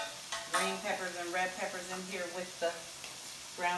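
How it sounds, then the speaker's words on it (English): Green and red peppers sizzling with ground turkey in a pan, a steady hiss and crackle running beneath someone talking throughout. "I'm going to throw the green peppers and red peppers in here with the ground turkey"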